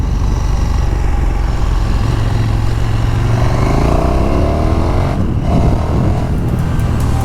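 A 2019 KTM 1290 Super Duke R motorcycle roars steadily at close range under riding wind noise, its engine note rising and shifting through gears with a loud, continuous drone.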